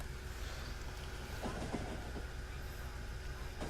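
A video game train in Factorio rumbles along steadily with a low, continuous roar and a few faint clacks, heard up close without any voices.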